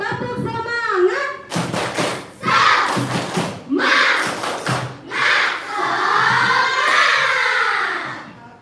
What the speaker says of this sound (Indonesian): Oke, supaya kita makin semangat, tepuk semangat.